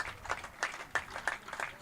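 A small local crowd applauds at a women's national bowls championship, with scattered, uneven bursts of clapping rising and falling in a loose rhythm, fairly close and moderately loud.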